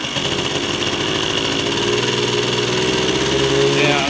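A Yamahopper moped engine idles steadily and close by, a continuous even buzz throughout, with someone talking over it.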